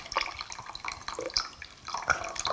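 Water is poured over a handmade bamboo matcha whisk carved from a single piece of bamboo, giving close, soft splashing and dripping trickles for a couple of seconds.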